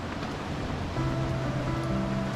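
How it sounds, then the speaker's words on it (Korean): Ocean waves wash against the rocky shore below Hongryeonam hermitage, a continuous soft surf hiss heard from a distance, with faint tonal sounds drifting in partway through. "파도 소리"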